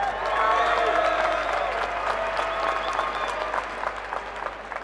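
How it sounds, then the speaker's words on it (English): Crowd applause at a Front Street Fights 17 MMA event for two fighters after their bout; a dense, loud burst of clapping with scattered cheers that holds steady, then thins toward the end. "How about a nice round of applause for these two bands right here?"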